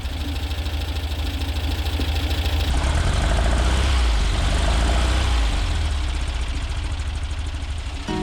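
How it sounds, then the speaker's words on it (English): A Volkswagen Bus engine, restarted after winter with a new fuel filter and timing that needs adjusting, idles close by with a slightly rough, uneven chug and a low throbbing rumble that swells briefly midway. "The engine came back on right away, but it was a little rough."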